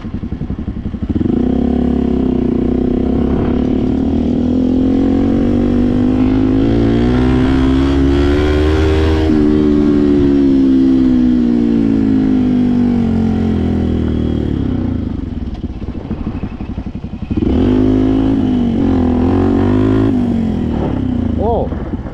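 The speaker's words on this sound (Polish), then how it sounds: "Ale przyjemny motocykl, ci powiem," A Yamaha WR 125 motorcycle engine revs up with a rising whine while riding on gravel, eases off, then revs hard again, loud and close.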